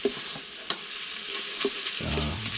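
Bacon fries toward super crispy in a pan, giving a constant loud sizzle with a few scraping stirs and clinks close by.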